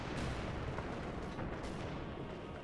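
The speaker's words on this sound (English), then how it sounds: "the mortars are firing faster" Mortars fire over and over in Company of Heroes 2, a steady wash of loud, dense booms and battle noise running through the whole stretch without any let-up.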